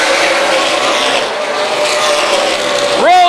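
Race cars at a short-track series event at Dixie Motor Speedway roar loudly and continuously as they slide sideways into turns 1 and 2, with a rising tire squeal near the end.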